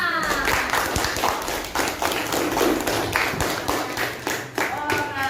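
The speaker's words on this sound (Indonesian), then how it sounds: "Oke, tepuk tangan dulu untuk kita semua." Classroom group applause, many hands clapping together in a steady, lively burst, loud and close, with no pause.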